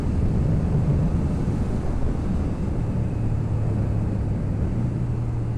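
A vehicle engine drones steadily and loudly during a clutchless downshift, a continuous low rumble with wind noise buffeting the microphone and a sustained low tone settling in partway through.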